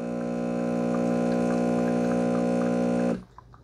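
A Farberware Dual Brew espresso and coffee maker pulling a single shot hums loudly and steadily with a strong pump drone, then cuts off abruptly near the end, leaving faint quiet clicks.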